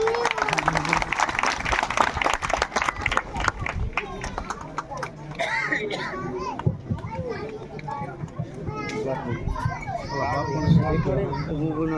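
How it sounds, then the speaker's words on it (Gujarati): An audience at a Hindu-Muslim communal unity gathering claps to welcome a Pir Bapu. A burst of dense clapping fills the first few seconds, then fades into overlapping voices and crowd murmur. "આપણે સૌ તાળીઓથી વધાવશું."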